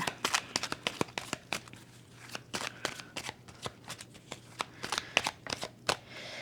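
Tarot cards being shuffled by hand, a quick series of crisp riffling flicks and taps repeating in close bursts, faint and close with no talking.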